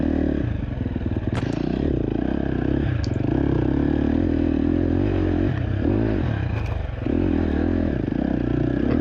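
A motorcycle at race pace, its engine droning loud and steady at close range for the whole stretch, with a few sharp clatters and scrapes over the top and no voices.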